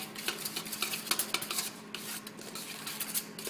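A big spoon mixes mayonnaise, mustard and egg in a bowl for creole crab cakes, making soft wet scraping and clinking strokes in an irregular rhythm at close range, with no talking.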